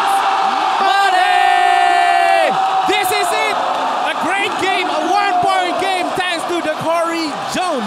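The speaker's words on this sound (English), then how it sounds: "The crowd is on their feet." Basketball arena crowd at a pro game roaring and cheering loudly and continuously, with whoops and shouts rising over the din after a big defensive play and three-pointer, while a commentator talks over it.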